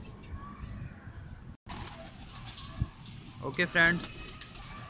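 Pigeons coo on a rooftop where birds are netted, soft and scattered under a voice that talks near the end.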